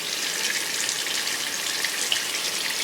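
Running water rinses perm neutralizer out of hair at a salon sink, a steady close hiss of spray and splashing that holds even throughout with no talk.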